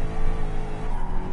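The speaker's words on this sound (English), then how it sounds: "this car likes to slide" A Gr.3 race car in GT Sport on the Nordschleife, its engine droning loudly with a steady tire hiss as it slides through a corner, continuous and close throughout.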